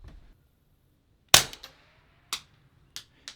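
A suppressed .22lr rifle fires subsonic ammunition, giving one loud sharp crack followed by three lighter, spaced reports, each a brief dry snap with no voices.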